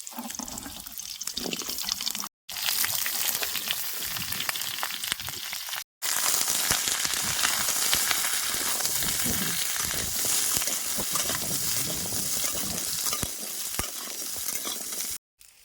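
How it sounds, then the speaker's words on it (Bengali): Cut hog plums (amra) fry with fennel seeds and five-spice in hot oil, a loud continuous close sizzle with stirring scrapes, briefly cutting out a few times. "মৌরি আর পাঁচ ফোড়ন বেশ সুন্দর ভাজা ভাজা হয়ে গেছে আর আমি কাইটে রাখা আমড়াগুলো দিয়ে দিলাম"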